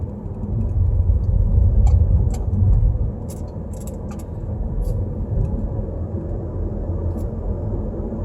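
A Kia K7 with the 2.2 diesel engine idles with a steady low rumble heard from inside the cabin. It is moderately loud at first and eases slightly, with a few faint clicks over the top.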